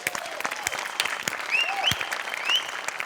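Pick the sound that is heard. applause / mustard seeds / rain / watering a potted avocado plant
applause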